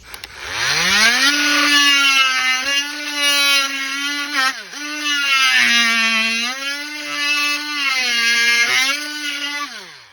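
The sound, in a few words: oscillating saw with sharpened blade cutting test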